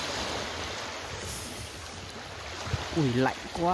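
Sea surf and strong wind roar steadily along a cold Japanese coast during shellfish gathering, a broad constant wash with gusts, and a short spoken exclamation near the end.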